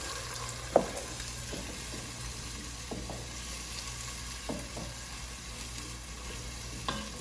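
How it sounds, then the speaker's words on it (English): Chickpeas being mixed into a warm pan for pasta e ceci, with soft scraping strokes and a gentle sizzle, a sharp clack near the start and a few quieter knocks spaced through the rest. "So now we're going to add in the chickpeas. You mix that in."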